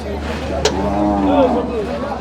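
A loud, close lowing of a buffalo at a cow market, a long deep drawn-out moo lasting over a second, preceded by a brief sharp click.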